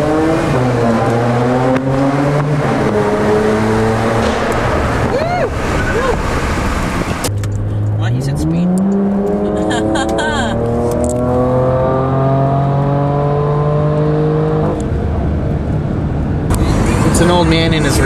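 Porsche and Lamborghini launching from a standstill, loud engines revving and accelerating hard with rising pitch sweeping up through the gears, a second run climbing again after a brief pause, close and continuous.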